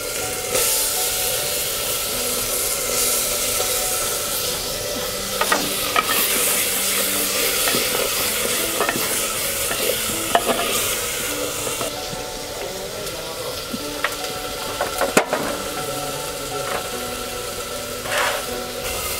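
Beef tongue curry with potato is stirred in a pot after the meat goes into the fried spices, a long bubbling sizzle broken by repeated scraping and knocking from the spoon, close by and without speech.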